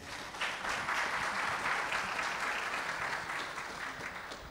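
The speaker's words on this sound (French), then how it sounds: "Est-ce qu'on peut applaudir les panélistes," Steady applause from a conference assembly for the panelists after a panel discussion, sustained and even throughout with no voices rising above it.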